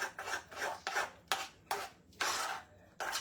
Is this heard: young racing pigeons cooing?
no